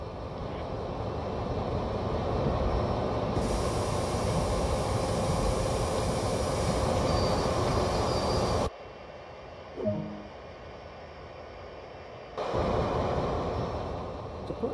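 CSX heavy-haul freight locomotive in Train Sim World slowing to a stop, a steady broadband rumble and hiss that cuts out abruptly and then briefly returns, with no talking.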